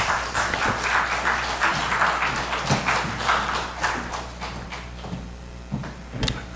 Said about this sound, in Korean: 우리 목사님 나오실 때 박수로 한번 환영해 주시기 바랍니다.